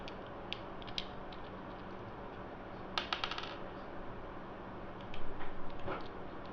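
Plastic battery holder being locked into a DIY Bluetooth speaker kit, giving a few sharp close clicks and a brief cluster of rattling snaps against a steady background hiss.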